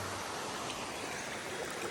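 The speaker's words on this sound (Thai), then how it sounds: "ข้างหน้า น้ำตกอันนี้มีหนึ่งอัน" Steady rushing water from a waterfall on a forest stream fills the whole clip, a dense broadband roar close by, with no voices.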